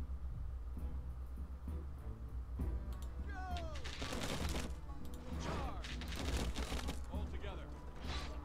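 Ranged-attack gunfire crackles in the strategy game Humankind, a cluster of sharp volleys and bursts over a low rumbling bed, fairly faint overall.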